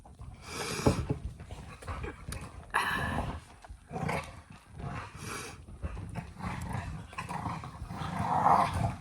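Two dogs, Mufasa and Gamora, growl, grumble and whimper in irregular bursts at close range, with short pauses between the louder vocal outbursts.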